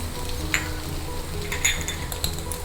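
Wheat rava upma stirring and frying in a pan with red chilli powder and rice flour, a steady close sizzle broken by a few light clinks of a spoon against the pan.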